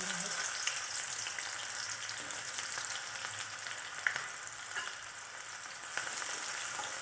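Chopped onion fries in a few ladles of hot oil for a bombil (Bombay duck) bhaji, a steady soft sizzle with occasional faint pops and light clinks, no talking.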